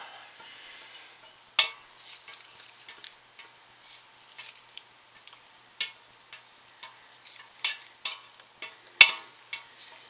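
A spatula scrapes leftover soap batter from a container, giving soft, faint scratchy strokes with sharper clicks and taps at irregular intervals, quiet and close, with no talking.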